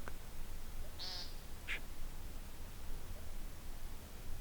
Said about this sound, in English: Yeah, it's a bird.